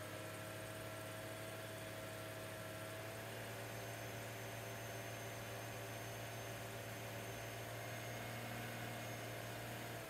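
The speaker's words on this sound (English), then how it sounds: "Just going to let it sit here and just rev the engine up a little bit." A car engine runs steadily with a head gasket tester sealed into the radiator, holding a low, constant drone with broadband hum throughout, close and continuous, no talking.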